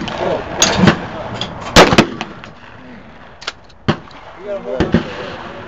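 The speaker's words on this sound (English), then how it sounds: "You can shoot that 20 gauge." A 20 gauge shotgun fired outdoors at a birthday shooting gathering: several sharp, loud blasts spaced irregularly, each with a short ringing tail, mixed with people talking and laughing nearby.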